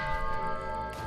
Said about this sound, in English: You want to ring my doorbell?